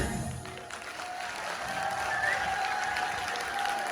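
Steady applause from a charity concert crowd fills the space, a dense wash of clapping that holds at an even level throughout.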